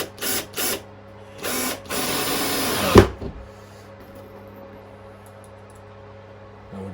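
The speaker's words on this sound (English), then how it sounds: "I'm just going to drill a couple of holes in the baseboard faces" A power drill boring holes into the face of a wooden baseboard, with several short bursts of whirring near the start followed by one longer run that ends in a sharp knock, then quiet room hum.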